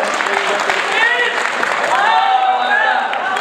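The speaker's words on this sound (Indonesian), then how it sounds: "Tepuk tangan dulu untuk Senda" Audience applause at an Islamic tabligh akbar gathering in Osaka, a loud, dense, sustained clapping that fills the room while voices carry over it.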